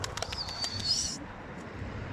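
A tumbler pigeon flaps its wings near a rooftop loft: a quick burst of soft wingbeats, faint and brief, over quiet outdoor background noise with no talk.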